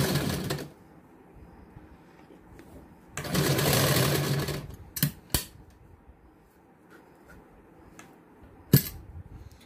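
A sewing machine stitches the lining of a katori blouse in two short bursts, a brief one and then a longer steady run, with quiet handling clicks and taps around them.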